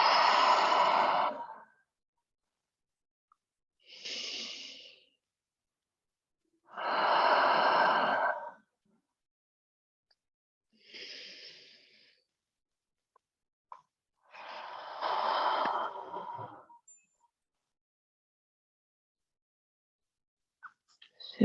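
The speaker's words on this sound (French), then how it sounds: "Prends 3 dernières respirations ici. Si tu souhaites, en expirant par la bouche." During a yin yoga half butterfly pose, a person takes slow, deep breaths and exhales through the mouth in five or six soft, airy breaths spaced by quiet pauses, close and alone.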